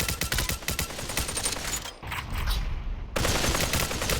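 AK rifle fired on full auto in the VR shooter Population One, rapid dense bursts of loud gunshots with a brief lull before the fire resumes hard and continuous to the end.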